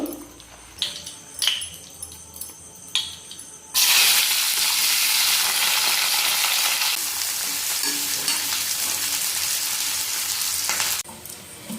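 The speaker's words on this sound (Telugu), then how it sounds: "ఆయిల్ అయితే హీట్ ఎక్కిందండి ఇప్పుడైతే నేను ఆనియన్స్ వేసేస్తాను ఫస్ట్" A few light metallic clinks, then a sudden loud sizzle as onions hit hot oil, settling into a steady crackling fry that abruptly drops off.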